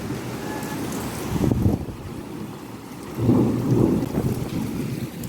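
Steady rain falling around a home balcony, with two deep rolls of thunder swelling up, one early and a longer one later, over a constant wash of rainfall; no voices.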